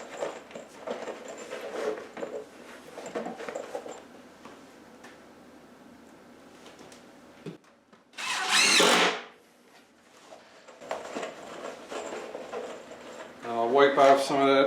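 A power driver sinks screws into the wooden frame of a rabbit house, with a short whirring burst midway and another near the end, between quieter workshop clicks and handling noises.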